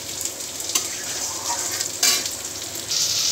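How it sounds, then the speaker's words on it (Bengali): Cashews and raisins frying together in a pan, a loud continuous sizzle close up, with a few sharper bursts as the pan is stirred. "এদিকে আমি কাজু কিশমিশ সব একসঙ্গে করে ভেজে নিচ্ছি।"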